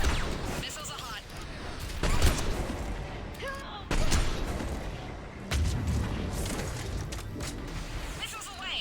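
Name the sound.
missile salvo firing in Mass Effect 3 video game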